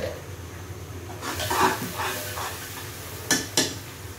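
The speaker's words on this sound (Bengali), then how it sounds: "এখন আদা বাটাটা দেব।" Ginger paste goes into a frying pan of chicken and garlic, a soft sizzle and stirring swell up, then two sharp scrapes of a spoon against the pan close by.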